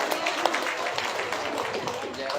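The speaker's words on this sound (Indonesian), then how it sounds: "Tepuk tangan luar biasa." Clapping from an audience at a community gathering of Rhoma Irama and Soneta fans in South Kalimantan, a steady dense patter lasting a couple of seconds with voices mixed in.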